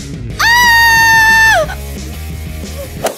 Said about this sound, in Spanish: ¿Por qué gritas?